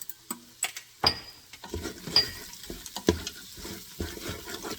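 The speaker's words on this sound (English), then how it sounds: "And stir it, and just make sure again that your food doesn't stick to the pan." Spices and food stirred in an Instant Pot while a vegetable biryani cooks with cumin and coriander powder, giving a series of close scraping, clattering stirs with a faint wet sizzle underneath.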